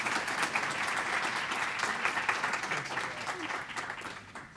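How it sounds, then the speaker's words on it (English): An audience in a law journal launch hall applauds to welcome a speaker, with dense, sustained clapping from a room full of people that tapers slightly toward the end. "Can we all please give Simon a warm round of applause before he"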